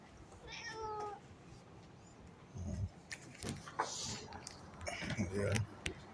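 A cat meows outdoors in the cold of a New Zealand backyard, a few faint calls mixed with a person talking nearby and some background noise.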